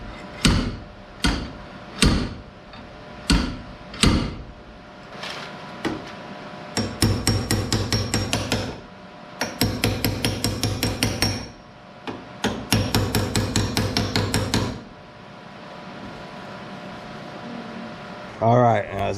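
A hammer and body spoon work a car body panel on a '59 Dodge Coronet. Sharp metallic blows come singly and spaced at first, then in quick rhythmic bursts, loud and close with short pauses between runs.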